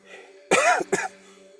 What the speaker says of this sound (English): It's funny that I coughed.